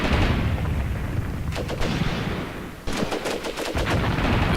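Heavy gunfire and explosive impacts hammer against a tank in a multiplayer war video game, with a dense continuous rumble broken by bursts of sharp, rapid shots, loud and close.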